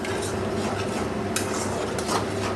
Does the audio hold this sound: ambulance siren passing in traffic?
no